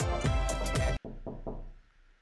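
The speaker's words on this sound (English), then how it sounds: "Sounds like knocking on the door." Three sharp knocks on a door in a quiet room, evenly spaced and fairly close, following a loud burst of music that cuts off abruptly.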